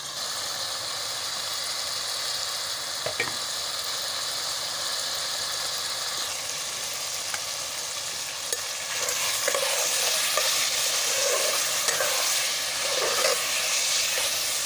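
Liver fries in spiced oil with a loud, continuous sizzle, punctuated by scraping stirs and small clacks of a spoon against the pan, growing busier toward the end; no one speaks.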